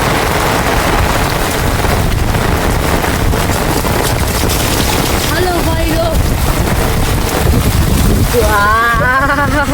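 Strong wind gusts during a monsoon rainstorm over flooded fields, rumbling and buffeting close to the microphone over the rain's hiss, with someone speaking briefly near the end.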